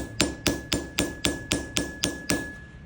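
A hammer strikes a Disston 22-inch panel saw plate bedded on an anvil, flattening the steel. Nine sharp, evenly spaced metallic blows ring close by, each leaving a steady high tone.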